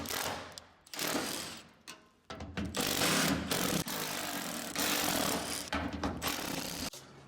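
A power tool zips bolts off a fire-damaged 1966 Ford Mustang fender in loud, whirring bursts near the mic, with brief pauses and starts between sustained runs.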